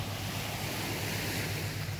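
Ocean waves wash at a shoreline where erosion is happening, a steady, close surf roar with wind noise and no break or voices over two seconds.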